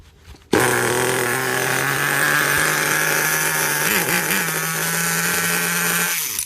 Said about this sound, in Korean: 깔끔하게 시동 잘 걸리는데요